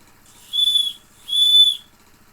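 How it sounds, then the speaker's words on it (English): Two short, shrill blasts from an Empire Metal Ware No. 62 toy steam engine whistle, nearly 80 years old, with a breathy hiss, clean and close, separated by a brief pause. "Very good solid whistle."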